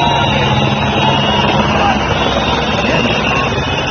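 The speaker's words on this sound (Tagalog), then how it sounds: "Bukod dyan sa helicopter nila na hindi makalapag-lapag" A military helicopter hovering without landing, a loud, continuous, rumbling drone of rotor and engine that stays steady throughout, with no pause or lull.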